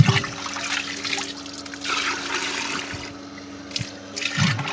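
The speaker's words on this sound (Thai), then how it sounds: "เดี๋ยวควันออกเยอะอาจารย์จะเติม น้ำในถัง หล่อเย็นหน่อย" Water trickles steadily into the cooling tank of a smokeless, chimney-free charcoal kiln, with a broad, continuous pour and a few small splashes near the end.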